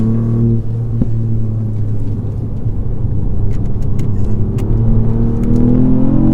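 Steady engine drone and road rumble heard from inside an MK7 or MK8 car lapping a track with a limited-slip differential, with the engine note rising gradually toward the end and no talking.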